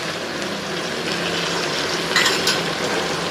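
Chicken fries in ghee with ginger-garlic paste in a pan and is stirred, giving a steady, close sizzle with a short burst of scraping and clattering from the spoon toward the end.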